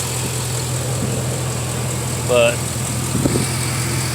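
A Chevy Silverado 6.0 Vortec V8 idling with a new Gates belt, a smooth, steady low engine hum close by, with a brief word of speech partway through.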